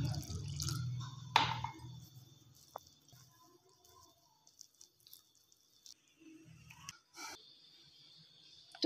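Water is added to a spiced coating paste for crispy potato chips, making a few soft drips and light splashes amid quiet kitchen sounds, with no talking.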